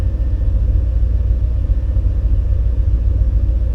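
An LS-swapped OBS truck engine idling with a little throttle, a steady, loud, close low rumble that stays fairly even throughout without a sharp rev, no talking.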